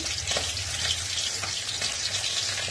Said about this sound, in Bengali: এবার তেল দিচ্ছি। দেখো, বেশ খানিকটা সর্ষের তেল দেবো, খানিকটা সর্ষের তেল দিলাম।